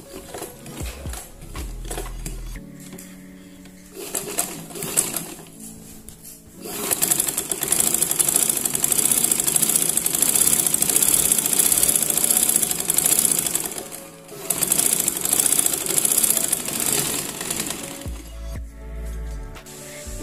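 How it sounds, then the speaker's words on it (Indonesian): A sewing machine stitches a batik skirt in a flight-attendant style, running loud and steady for long stretches with brief pauses and quieter handling at the start and end. "dan kita jahit seperti tadi."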